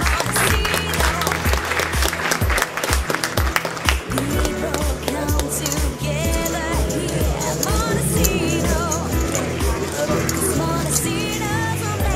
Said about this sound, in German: Applaus für Johannes Straßmann.